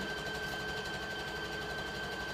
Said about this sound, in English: I don't like to stop when I start sewing